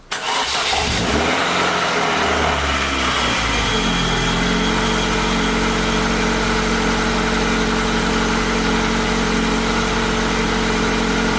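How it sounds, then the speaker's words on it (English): A Ford Racing Puma Stage 2 engine cranks and catches, then settles into a steady, loud idle that runs on evenly without any voices. "I'm going to turn the key and see what happens"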